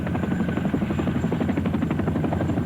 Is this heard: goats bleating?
no